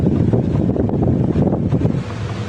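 An Armor mini industrial stand fan with a weak, sticking motor whirs close by with an uneven, rushing airflow that swells and fades as it spins.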